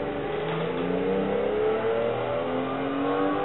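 A car in a sim racing game, played on a Fanatec wheel, revving and accelerating away from a standstill; a steady, close engine note with rising pitch and no talking.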